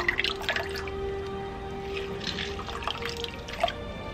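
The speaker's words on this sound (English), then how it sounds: "I'm just squeezing this into the cider." Juice from an orange is squeezed into cider, giving faint scattered drips and small trickles over a low background hum, close but quiet.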